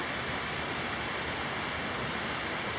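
Steady, dense rush of a river and waterfall running high with mountain snowmelt, a constant broadband roar with no breaks, loud and close.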